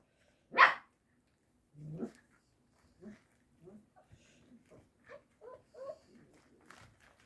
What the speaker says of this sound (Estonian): Ta haugub selle peale.